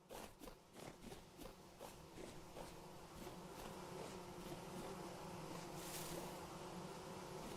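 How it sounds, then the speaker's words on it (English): Bees buzzing in the game Vintage Story, a soft droning hum that pulses at first and then settles into a steady faint buzz, alongside light footstep-like thuds. "I think I hear bees."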